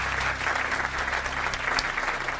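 A game show studio audience claps steadily and fairly loudly throughout, a dense even applause with no talk over it.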